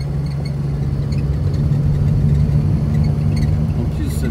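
A 1973 Renault 4L runs along a country road with a steady, loud engine drone and road rumble, where a gear change barely stands out from the continuous sound and there is no talk.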